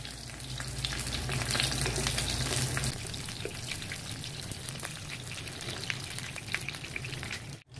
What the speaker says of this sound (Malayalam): സവാള അതുപോലെ തന്നെ നമുക്ക് ചുട്ടെടുക്കാം, അതിൻ്റെ കൂടെ ഒരു ചെറിയ കഷ്ണം പുളിയും അതിലിട്ട് കൊടുക്കാം